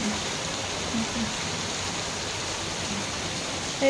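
Steady rain falls all around, an even hiss of drops that holds constant throughout.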